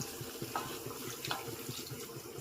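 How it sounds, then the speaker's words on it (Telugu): Water pours steadily into a pot of chicken and rice for biryani, a continuous close splashing rush with no talk. "ఇప్పుడు ఇందులో వాటర్ పోసేసుకుందామండి."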